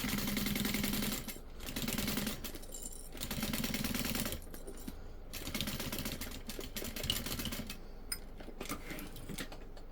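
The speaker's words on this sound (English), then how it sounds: "And then you're just going to stitch that closed." A sewing machine stitches a handbag closed in several short runs of steady mechanical whirring, with pauses between bursts and no talking.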